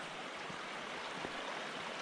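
A creek streams beside a forested river trail in the Olympic mountains, a steady broadband rush of flowing water filling the whole clip with no voices over it.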